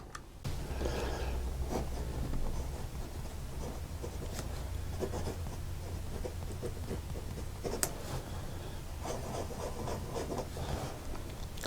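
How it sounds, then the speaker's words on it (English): A medium nib on an acrylic fountain pen writes on paper with Robert Oster Frankly Blue ink, producing a close, continuous soft scratching with small stroke-by-stroke variations and occasional light taps. "let's just see how the regular medium nib that came with the pen writes."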